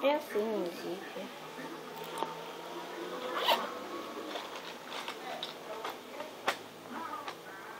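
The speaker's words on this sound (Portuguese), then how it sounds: "É assim o zíper." A pencil case zipper is opened and closed up close, giving raspy ticking zip runs with small clicks, while someone speaks throughout.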